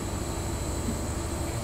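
An HST high speed train in a Train Sim game runs with a steady, loud mechanical rumble and hum, continuous and unbroken across the short stretch, with no talk over it.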